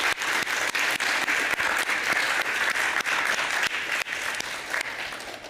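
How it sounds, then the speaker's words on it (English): Audience applause at a tech summit on ad filtering, loud and sustained steady clapping from a full room with no break, heard alone without any voices over it. "Round of applause one time for them."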